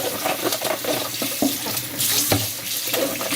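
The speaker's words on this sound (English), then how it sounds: "What we're going to do, we are going to wash the vegetables" Tap water running into a sink while aubergines are washed, a steady close splashing stream with small clatters of handling throughout, no talk.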